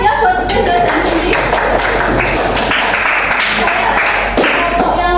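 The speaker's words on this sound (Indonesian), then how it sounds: "berarti tepuk tangan ya buat Reza dan Cindy." Classroom students clapping their hands together, a loud, fairly close burst of mixed claps that runs throughout while voices chatter and cheer over it.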